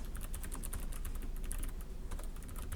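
Rapid typing on a computer keyboard during a front-end programming class, with dense, continuous key clatter that holds steady throughout and no one speaking.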